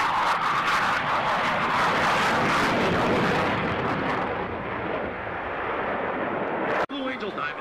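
A Blue Angels jet roars past at the 1990 NAS Lemoore airshow, a loud broadband rumble that fades into the distance. A commentator talks over the engine noise, and a sharp thump comes near the end.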